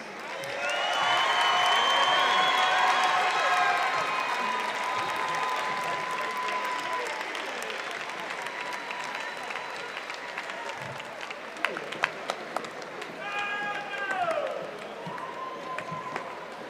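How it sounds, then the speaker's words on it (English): A commencement crowd in 2022 applauds and cheers its graduates, with steady clapping, whistles and shouts rising at the start and again near the end, while people talk over it. "One more round of applause for all of our graduates."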